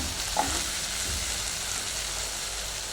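Ginger and garlic sautéing in hot oil for rava kichadi, a steady close hiss of frying throughout, with one brief clink near the start and no talk.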